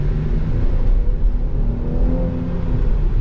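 A Chevy Blazer Premier engine, about 300 horsepower with an 8-speed automatic, rumbles with a low, steady hum and a brief mild rise in revs, close and continuous with no talk.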